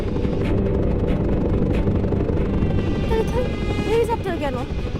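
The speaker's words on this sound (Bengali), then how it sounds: "হেলিকপ্টার কেন?" A helicopter's rotor and engine produce a steady, loud, pulsing roar throughout, and voices begin talking faintly under it toward the end.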